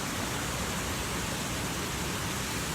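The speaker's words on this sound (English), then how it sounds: "here I am, the waterfalls of Krka" Krka waterfalls in the national park roar as a dense, continuous wash of rushing water, steady and broad with no pauses, no voices over it.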